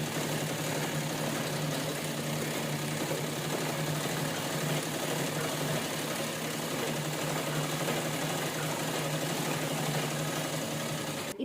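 A sewing machine runs steadily and alone as it stitches a cloth bag, a continuous mechanical hum with a fine rapid clatter that holds an even level throughout.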